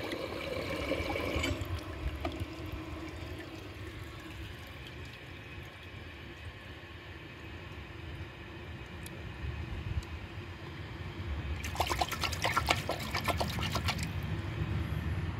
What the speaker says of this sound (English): but of course I better add some water